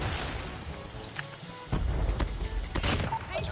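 Marksman rifle shots in a video game, a handful of sharp loud cracks and bangs scattered among game effects, with players talking over them.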